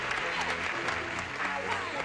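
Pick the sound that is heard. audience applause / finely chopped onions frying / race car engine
audience applause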